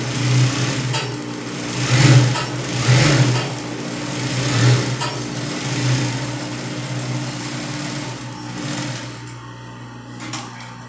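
A sewing machine stitches a backstitch on viscose fabric for a gathered skirt, a steady close mechanical whirring that surges and eases over about ten seconds before stopping.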